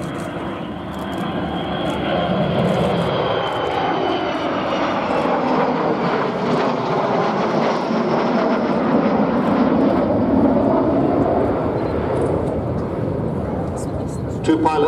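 The Avro Vulcan XH558 bomber, flown by two pilots at the Duxford airshow, passes with a loud, sustained jet roar that swells and holds across the whole stretch, while a commentator talks over it.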